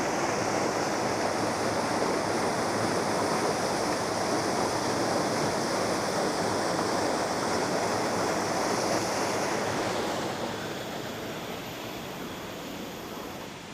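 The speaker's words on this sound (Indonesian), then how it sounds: "Di bawah saya airnya sangat deras sekali, tapi keruh gitu teman-teman" Fast-flowing murky brown river water rushes loudly and continuously below a vantage point at a historic Mataram kingdom site, a dense, steady roar that eases slightly near the end.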